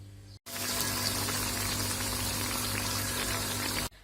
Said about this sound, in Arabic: وتوا باش نحطهم يتقلب